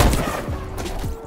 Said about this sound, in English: What was that shot, bro?